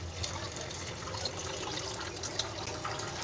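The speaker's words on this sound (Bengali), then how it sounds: "এই পর্যায়ে আমি জল দিয়ে দেবো" Water poured into a pan of masala-coated potatoes makes a continuous close splashing trickle over a low sizzle, with a faint voice in the background.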